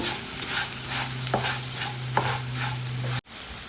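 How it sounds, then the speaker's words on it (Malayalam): Ivy gourd frying in a pan with crushed pepper, being stirred: a steady close sizzle with a couple of spatula scrapes, ending abruptly. "ഒരു കാൽ സ്പൂൺ ചതച്ച കുരുമുളക് ചേർക്കാം നന്നായി മിക്സ് ചെയ്ത് കൊടുക്കാം"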